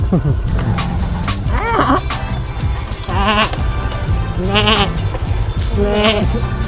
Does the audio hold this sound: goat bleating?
yes